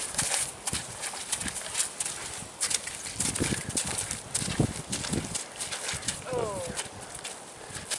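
A horse walks with its handler, hooves clip-clopping in an irregular, moderately close rhythm across the ground while someone talks over it in French.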